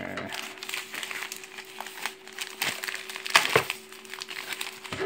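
Packaging for a Xiaomi Mi Smart Band 6 is handled and opened up close, giving irregular crinkling and a few sharp cracks against a steady faint hum, with someone talking over parts of it.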